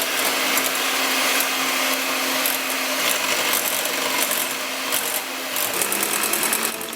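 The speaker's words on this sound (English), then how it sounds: "Firstly, Amma is going to whisk 400 milliliters of double cream." An electric mixer whisks 400 ml of double cream, giving a loud, steady motor whine with a broad high-pitched hiss that runs unbroken throughout.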